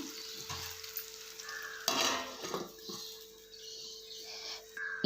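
Eggs frying in oil under a plate used as a lid, giving a continuous close sizzle with soft clinks of cookware and a louder burst of spitting oil partway through.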